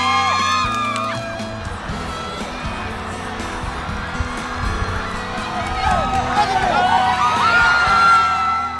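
Loud crowd roar with screams and whoops from the spectator stands at a Korean high school sports competition, as a boys' and girls' team win together; dense, sustained cheering swelling toward the end over music.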